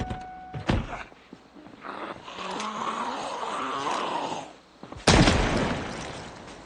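Gunfire at zombies in Project Zomboid: a few sharp in-game shots, near and loud, a burst early on and a heavier blast near the end, with growling and rumbling game ambience between.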